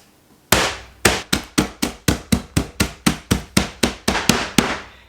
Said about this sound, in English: I'm using the flat of a hammer